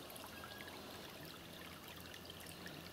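Water trickles steadily out of a pond through a freshly dug drainage trench, a soft, continuous outdoor babble with no voices.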